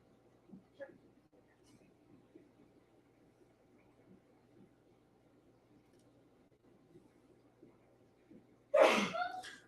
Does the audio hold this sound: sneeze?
yes